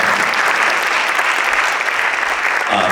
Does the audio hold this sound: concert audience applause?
yes